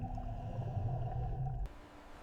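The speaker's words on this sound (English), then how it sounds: "The massive sperm whale is a visitor, holding its breath to dive into the abyss." A massive sperm whale vocalizes underwater in low, droning tonal moans layered over deep rumbling, sustained and fairly strong, then cutting off abruptly into quiet water noise.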